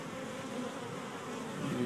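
Bees on a porch make a soft, continuous buzzing drone, a few insects close by, with no voices.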